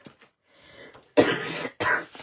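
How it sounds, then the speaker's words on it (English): A person coughs twice in close succession, fairly loud and near, preceded by a few faint breaths and mouth sounds. "Excuse me, coughing."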